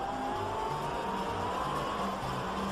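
Race car engine in a racing video game such as Project Cars, a continuous loud whine with shifting pitch over constant road and tire noise, no voices.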